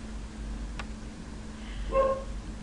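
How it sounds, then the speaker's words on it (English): A single dog gives a short bark or yip in the background of a quiet home room, brief and fairly faint. "you can hear my dog in the background"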